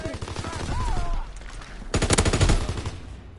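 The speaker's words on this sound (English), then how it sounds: "I got rapid fire on this light machine gun" Light machine gun in rapid fire during a Call of Duty WW2 match, loud close bursts of rattling shots with a short gap between two long volleys, while a voice speaks over part of it.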